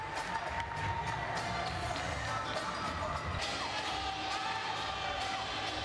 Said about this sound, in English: Really getting into it now, the crowd